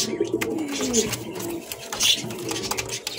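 Pigeons, including a white Danish pair, coo in low throaty bursts close by, over a busy background of rustling and other birds.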